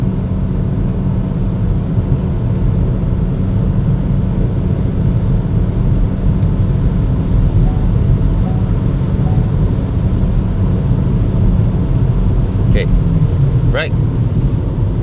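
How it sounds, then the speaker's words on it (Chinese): A Proton e.MAS 7 PHEV's 1.5L engine revs during highway driving. A continuous loud low drone blends with road and wind noise inside the cabin, and a few faint brief clicks come near the end. "注意听它的 engine rev。"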